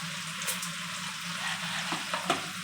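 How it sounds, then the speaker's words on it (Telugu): Drumstick pieces fry in hot oil with a continuous close sizzle and a few soft stirring clinks and scrapes, steady and moderately loud. "ములక్కాయ ముక్కలు అయితే బాగా ఎర్రగా వేగాలి ఫ్రెండ్స్"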